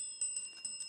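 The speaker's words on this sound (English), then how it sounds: "the final bell, the end of the final challenge, the end of the match" A bell signals the end of the match at a school quiz competition, sounding as a few quick, bright metallic strikes that ring faintly in a quiet room.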